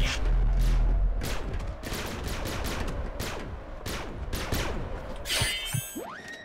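Turret gunfire in the video game Bedlam: a rapid, loud stream of close shots and bursts, with clattering impacts and a sharp crash or shatter near the end.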